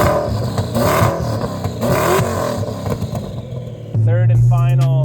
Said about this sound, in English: This car is much louder.